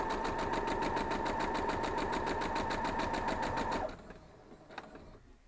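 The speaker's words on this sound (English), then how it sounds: "Let's just lay these down here and we'll start running our stitches through." A sewing machine runs a steady, rapid stitching rhythm while quilt block pieces are sewn, then stops abruptly, leaving a quiet room with a few faint handling sounds.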